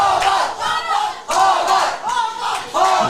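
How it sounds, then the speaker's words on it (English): Football crowd at a men's summer cup match roaring in repeated swelling waves of chanting and cheering, loud and sustained across the whole moment. "I have no idea what's going on here in the crowd, but they're getting awfully excited"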